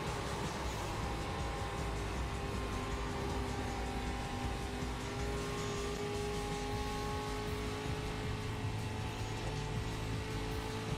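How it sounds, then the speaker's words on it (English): A pack of fast race cars approaches in the sim racing game iRacing during a road course league race, a loud steady engine drone with layered tonal whines that stays dense and constant throughout, no voices. "Group of fast cars approaching."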